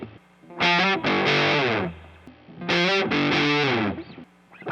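Distorted electric guitar with a treble bleed fitted, two loud sustained chords struck and ringing out in turn, thick and saturated with a bright top end, played alone.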